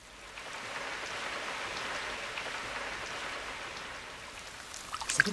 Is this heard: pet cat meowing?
no